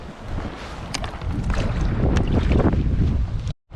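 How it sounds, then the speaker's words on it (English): Strong wind roars and buffets the microphone over a lake while kayak fishing, with water slapping against the hull; steady and loud throughout, then cutting out briefly near the end. "Wind is definitely picking up."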